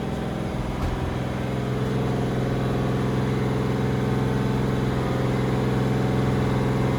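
A Doug Rippie LT1 383 V8 runs on an engine dyno with a steady, droning hum. The tone is even and continuous, like an idle, and it stays loud and unbroken throughout with no voices.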